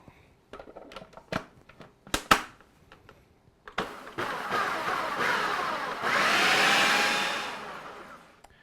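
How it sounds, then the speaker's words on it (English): A food processor grinds dried chili, tomato powder and truffle salt into a rib rub: a few clicks and taps first, then a loud steady whirring motor that rises in pitch before cutting off. "I'm going to go ahead and get this in the food processor and get it all ground up"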